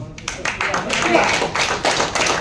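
A general body meeting audience breaks into applause as new office bearers, including a treasurer, are announced, with rapid, dense hand claps close by that continue steadily throughout.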